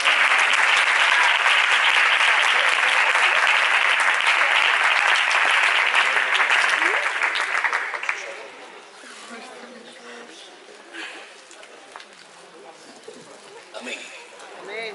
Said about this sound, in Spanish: Con un fuerte aplauso recibimos al siervo de Dios y a la palabra